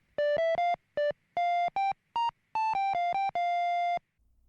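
A phone alarm going off in the anime FLCL Progressive, a bright electronic melody of short beeping tones in quick uneven rhythm, loud and clean with nothing else behind it.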